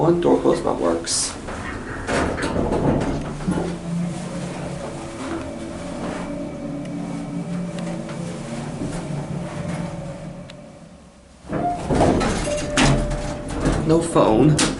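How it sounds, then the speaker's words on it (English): An older Otis Series 1 hydraulic elevator door slides shut in a Lancaster, Pennsylvania building, a steady rumbling glide lasting several seconds that stops abruptly before louder clatter resumes, with speech around it. "Go back down to 1, door close button works."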